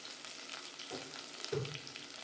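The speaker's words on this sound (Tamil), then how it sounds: "கருவேப்பில் சேர்த்திக்கிட்டேங்க நல்லா வதங்கட்டும்" Dried red chillies and curry leaves sauté in hot oil in a pan for a Kongu-style mutton fry, with a soft, steady sizzle and a couple of brief stirring scrapes, no voices.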